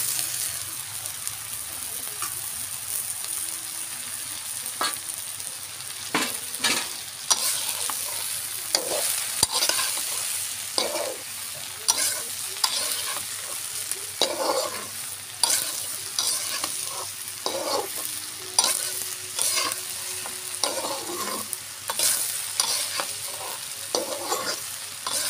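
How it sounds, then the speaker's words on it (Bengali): Diced potato and ridge gourd fry with onion and garlic in a hot pan, a continuous sizzle broken by repeated scraping and clacking strokes of a spatula as the vegetables are stirred. "আলুটা সুন্দরভাবে পেঁয়াজ রসুনের সাথে ভাজা ভাজা হয়ে গিয়েছে।"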